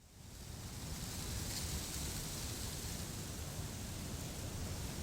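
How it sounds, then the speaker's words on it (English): A steady hiss of white noise from the music of the Harvester video game fades in quickly and holds at a constant, quiet level with no other sounds. "that's just the white noise from that music"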